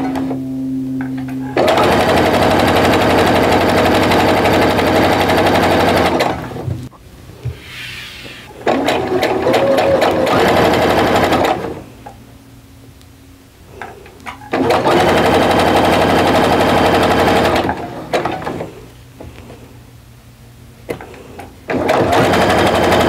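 A sewing machine stitches quilt pieces for a star quilt in long, steady, close runs of rapid whirring, separated by quieter pauses with handling noises.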